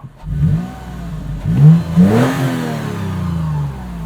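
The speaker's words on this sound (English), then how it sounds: "Let's hear that TRD exhaust real quick too." A 2020 Toyota 4Runner Venture with a TRD exhaust revs close by: a short idle, then a couple of quick throttle blips rising in pitch and settling back down.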